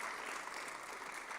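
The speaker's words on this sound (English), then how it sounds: "Give our kids another round of applause" A church audience at a Black History program gives the children a round of applause, a steady wash of many hands clapping, fairly soft and distant, with no voices over it.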